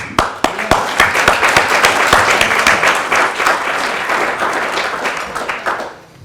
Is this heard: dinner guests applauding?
yes